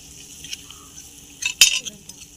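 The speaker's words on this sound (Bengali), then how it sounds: "এবার মশলাটা ভালোভাবে কষিয়ে নিতে হবে।" A spoon scrapes and clinks in a tiny pan of a toy mini kitchen as salt, turmeric and chili powder paste is sautéd for fish curry, over a faint steady sizzle with a sharper burst of scraping near the end.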